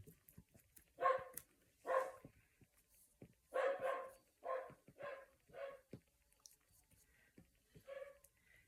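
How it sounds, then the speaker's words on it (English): A dog barks repeatedly at a distance indoors, about eight sharp barks in irregular bursts, fairly faint against a quiet background. "there goes the dog again"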